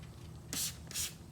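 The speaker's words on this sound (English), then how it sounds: "So anyway, spray this stuff real liberally." Poorboys World Spray and Rinse sprayed liberally onto car wheels fitted with 6-piston Brembo brakes: two short, close hissing spray bursts separated by a brief pause, over a quiet background.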